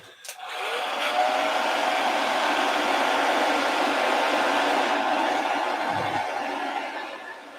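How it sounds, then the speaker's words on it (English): A hair dryer blows steadily at close range for several seconds, a continuous broadband whoosh with a constant airflow roar from start to finish, used while painting a miniature. "hair dryer time."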